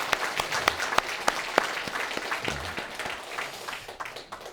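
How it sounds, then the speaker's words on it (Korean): Church congregation at a Sunday worship service applauding children from the kindergarten and children's departments, a steady patter of many hands with a few sharp individual claps standing out, fading toward the end. "우리 박수 한번 할까요?"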